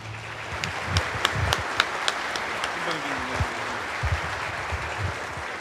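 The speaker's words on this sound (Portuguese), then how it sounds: "com uma calorosa salva de palmas" A crowd claps warmly for several seconds, the applause steady then thinning, with a few voices murmuring underneath.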